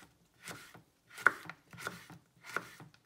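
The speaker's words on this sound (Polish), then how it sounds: "Możemy zrobić sobie połowę ogórka na okrągłe plasterki" Knife cutting a cucumber into round slices on a board, four distinct crisp chops spaced about half a second apart, close and quiet with silence between cuts.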